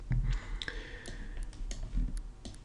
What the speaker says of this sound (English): I'm going to press the arrow up key a number of times till I have them right on that line.